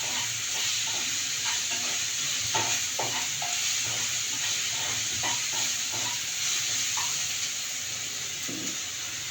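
Chickpea flour frying in a masala curry for a side dish, stirred in a pan: a steady close sizzle and hiss throughout, with scattered soft scraping and stirring knocks.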